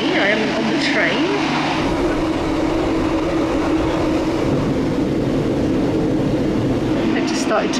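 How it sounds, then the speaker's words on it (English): Steady loud rumble of a moving passenger train heard from inside the carriage on a trip to Cardiff, with continuous rolling roar and faint rail clatter throughout, no clear talk over it. "As you can see, I am on the train."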